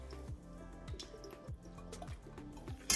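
Fish sauce is poured from a spoon into a dish for a Thai-style steamed mushroom and pork belly dish, soft liquid trickles and small drips heard close and quiet, ending with a brief clatter.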